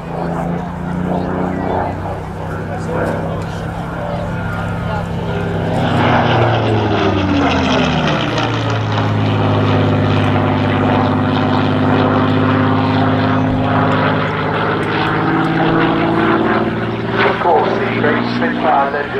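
A Spitfire propeller aircraft flies past at the RAF Cosford airshow, its loud engine drone rising and shifting in pitch as it passes, with a commentator talking over it.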